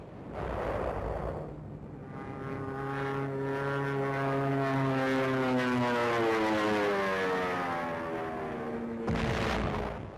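A WWII SBD dive bomber flies over, a propeller engine drone that swells, peaks and slowly shifts pitch as it passes. The sound is loud and steady, heard alone with a brief rumble at the end.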